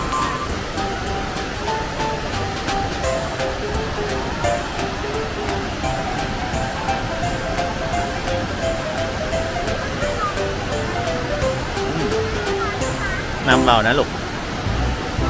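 Khlong Lan waterfall in full flow with lots of water sends a steady, broad rushing roar through the whole stretch, while someone speaks over it and a voice rises briefly near the end.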